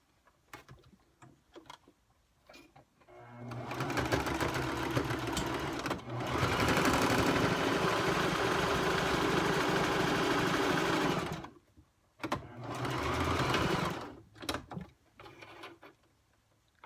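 Sewing machine stitching a catnip fabric fish, running in several bursts: short taps, then a long steady whirring run, a brief pause and another shorter run, with faint clicks between.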